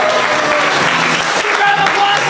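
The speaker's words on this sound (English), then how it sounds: "Round of applause for him, everybody" Audience applause at a student improv games showcase, a dense, loud, sustained burst of clapping from a crowd with a voice speaking over it.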